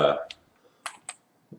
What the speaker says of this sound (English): oh my gosh, the keyboard is so loud